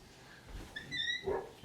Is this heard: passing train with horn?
no